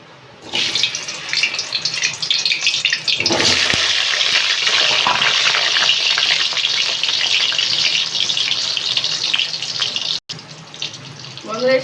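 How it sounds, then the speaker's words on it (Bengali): Boiled potatoes frying in oil in a pan, a loud, steady broadband sizzle running almost without pause, with a brief drop near the end. "আলুগুলো এবার আমি হালকা করে ভেজে নেব"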